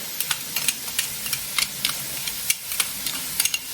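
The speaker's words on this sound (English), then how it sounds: "So right now we just want to saute all the vegetables together." Onion, carrot, garlic and other vegetables sautéing together in a pot, with a soft steady sizzle broken by repeated crisp clicks and scrapes of stirring at an uneven rhythm.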